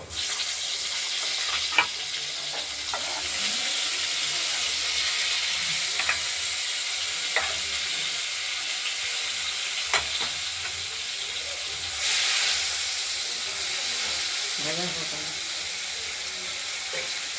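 Potatoes fry in hot oil tempered with cumin, black cumin (nigella), dried red chillies and bay leaves, giving a steady close sizzle with occasional utensil clinks and scrapes; no one speaks.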